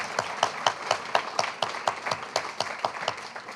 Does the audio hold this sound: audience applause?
yes